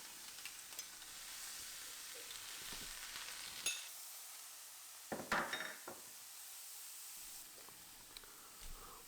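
Burger patties sizzle in a frying pan, a steady crackling hiss with brief scraping and clinks of a utensil partway through.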